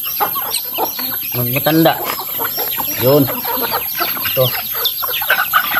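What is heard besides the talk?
bantam chicken clucking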